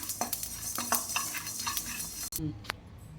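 Spices and asafoetida sizzle and crackle in hot oil while tempering for citron pickle, with a stirring utensil scraping the pan in quick strokes before the frying quiets down.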